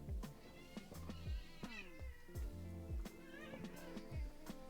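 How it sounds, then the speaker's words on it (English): A cat meows over and over in short, rising cries, fairly faint, with a few soft thuds between the calls. "You're not gonna meow anymore?"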